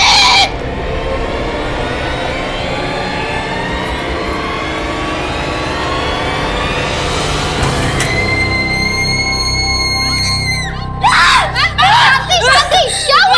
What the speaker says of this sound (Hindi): आप इतना चीख क्यों रही थी?